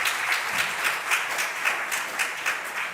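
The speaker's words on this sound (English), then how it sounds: "Another round of applause for her," An audience applauding at a government programme launch event: dense, continuous clapping from many hands, loud and even, with slight swells in intensity.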